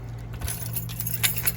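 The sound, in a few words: keys jangling while unlocking a door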